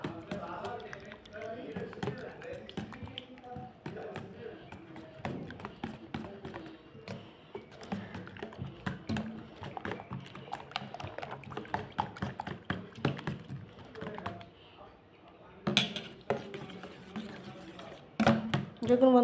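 Eggs mixed with grated boiled potato are beaten by hand in a bowl, making a long run of quick, soft, wet taps and clacks that keep a fairly steady rhythm, with a short quieter pause before they pick up again.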